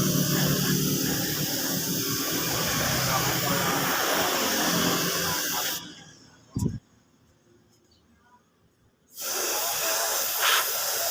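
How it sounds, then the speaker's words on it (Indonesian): An aerosol or spray gun hisses out primer onto a 2008 Honda Vario motorcycle's bodywork, long close bursts of spray separated by a quiet pause with a brief knock, then the hiss resumes. "Ini juga perlu kita semproti cat dasarnya agar hasilnya nanti tidak terjadi belang."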